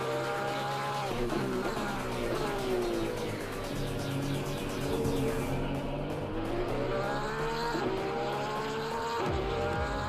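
A Porsche race car at Donington Park in Assetto Corsa Competizione wails loudly under steady engine load, its pitch rising and falling through gear changes, with brief tire squeal and other cars close by.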